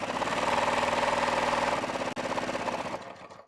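Sewing machine stitching the center front edge of fitted pants, a loud, steady mechanical whir with a rapid regular needle rhythm for about three seconds before slowing and stopping.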